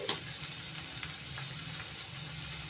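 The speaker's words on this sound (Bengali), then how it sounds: "চাউমিন একটু নাড়াচাড়া করে নিচ্ছি" Handmade vegetarian paneer chow mein being stirred and tossed in a pan, with a steady soft sizzle of frying and faint scraping, low and even throughout with no voices.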